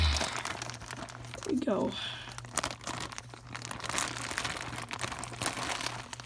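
A plastic bag holding bootleg Godzilla figures is torn open by hand, crinkling and rustling with a brief tearing burst, while a person talks in the background.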